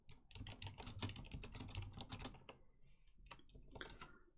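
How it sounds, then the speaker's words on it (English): Rapid clatter of typing on a computer keyboard during a live online quiz, dense bursts of keystrokes close up that thin out and pause briefly partway through before starting again. "Sorry if my keyboard's loud there"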